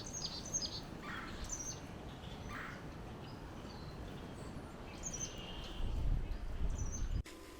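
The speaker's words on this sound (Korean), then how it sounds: "다우니 우드페커는 작은 딱따구리로서 텃새이며 흑백의 얼룩무늬가 특징입니다." Backyard birds calling around a cage feeder stocked with suet cake for woodpeckers: a few short, high chirps come and go over a steady outdoor hiss, with a low rumble swelling near the end.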